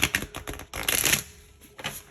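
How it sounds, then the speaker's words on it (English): Stiff tarot cards shuffled by hand, a quick series of crisp riffling flutters and snaps, close and loud with short gaps. "these cards are so hard to shuffle sometimes"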